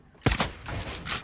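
Gunshots in the video game Fortnite, with a sudden loud burst of a few rapid blasts and a ringing tail, then a quieter follow-up shot near the end.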